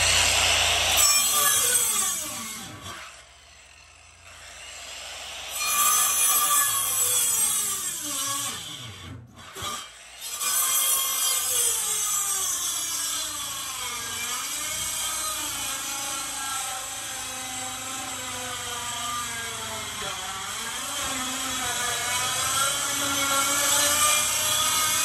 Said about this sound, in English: I know you can probably hear how hard it is for the blade to go through this heart pine.